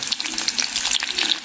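Onion sizzles in a large spoonful of hot oil over high heat for restaurant-style chilli paneer, a close crackling fry with stirring scrapes throughout, no voices.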